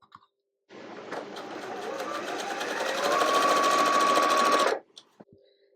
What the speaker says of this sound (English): I'm going to go ahead and put the second white one on and sew right on that line again